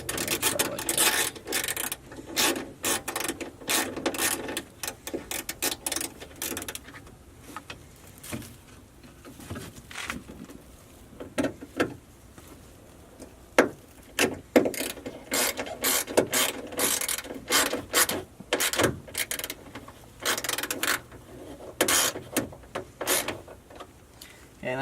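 A ratchet tightening the mounting bolt of a truck's side mirror on a 1999–2007 Ford Super Duty, with rapid clicking runs broken by pauses, close and fairly loud, and brief talk at times.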